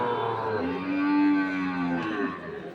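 A Sahiwal calf moos once at a livestock market in Ambari, Dinajpur, a long, loud, drawn-out low call close by, fading at the end.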